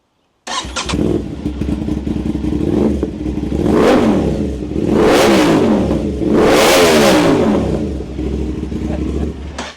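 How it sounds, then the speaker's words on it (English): An Aprilia RS 660 motorcycle with an aftermarket exhaust starts up and revs loudly nearby, three strong throttle blips rising and falling over a steady rumbling idle. "why don't we go ahead and fire it up and show what this sweet aftermarket exhaust sounds like?"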